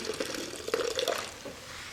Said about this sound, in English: And as usual, nice hot water.